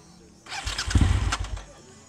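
A 2003 Suzuki SV 1000 V-twin motorcycle engine starting up, a quick crank then a loud, close rise into a short rev before settling, outdoors at Rock Store in Malibu, California.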